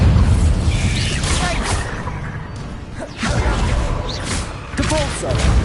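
The Bombarda explosion spell in Hogwarts Legacy goes off amid a loud, dense run of swooshes, booms and crashing bursts, with repeated impacts and short whistling magic effects.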